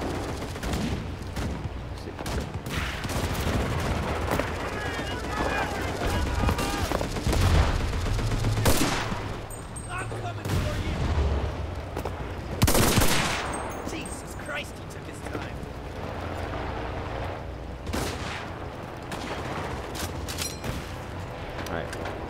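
Dense gunfire fills a match of the video game Enlisted, with rapid rifle and machine-gun bursts and several louder blasts layered over a steady battle din.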